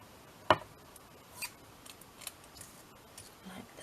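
Scissors snipping a small piece of tape at a desk: one crisp, close snip, then a few faint ticks and light handling noises in a quiet room.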